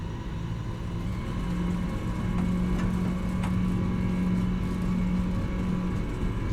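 PMDG 777-200ER jet engines running steadily in Microsoft Flight Simulator 2024, a constant loud roar with a sustained low hum and whine that holds evenly throughout, no voices.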